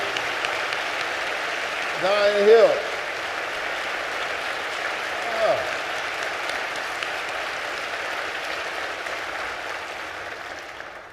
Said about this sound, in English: Would you do me a favor and give them a great big round of applause?